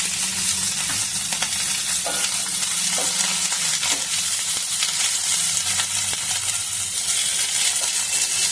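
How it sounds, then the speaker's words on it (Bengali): Onion and capsicum frying for chilli paneer, a steady close sizzle with stirring scrapes and clinks of a spatula against the pan throughout, no voices. "পেঁয়াজ আর ক্যাপসিকাম দিয়ে বেশিক্ষণ ভাজবো না"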